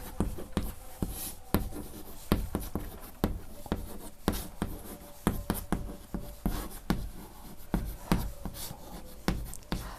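A pen scratches on paper, writing out linear programming constraint equations, with steady close strokes and frequent sharp taps over ten seconds.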